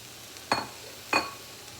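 Two short bursts of sizzling as spinach is stirred in a hot pan, each a quick hiss that fades fast, with quiet gaps between and no talk.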